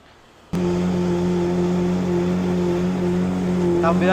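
A fishing boat motor starts abruptly and runs loud and close with a steady droning hum, carrying people out to sea for squid fishing.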